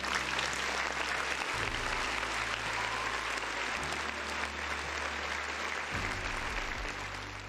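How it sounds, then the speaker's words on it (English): A round of applause rolls on as a thick, continuous wall of clapping from a crowd, steady for several seconds and easing slightly toward the end. "Round of applause, folks in the chat"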